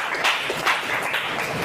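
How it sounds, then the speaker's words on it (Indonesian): A school class claps hands more energetically during a classroom game, a continuous wash of group clapping with a few louder bursts standing out. "ayo tepuk tangan yang lebih meriah lagi"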